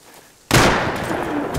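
A single sharp gunshot cracks in the survival video game Rust after a quiet moment, followed by a brief echoing tail.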